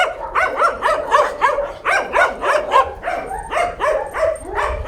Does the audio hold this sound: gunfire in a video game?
no